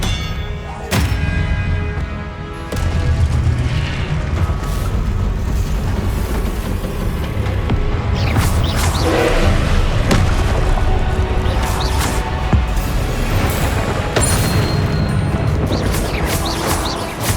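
Spell blasts and impacts during combat in the Hogwarts Legacy video game, loud, dense booms and crashes over a continuous rumbling soundtrack, with a voice shouting incantations.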